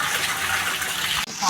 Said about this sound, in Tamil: எனிவே தண்ணி ஊற்றுது, ஃபோர்ஸ் வந்தால் தான் பிடிக்கிட்டு போயின்னு நினைக்கிறேன்